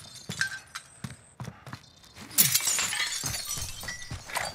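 Window glass shattering in the battle-royale shooter Call of Duty: Warzone, a bright crashing burst of breaking glass that spills into a sustained rattling wash after a few sharp knocks and game effects.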